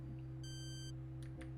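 A short electronic beep from the grabber control in the Space Quest computer game, a single clear tone lasting about half a second over a quiet low hum, followed by faint soft clicks.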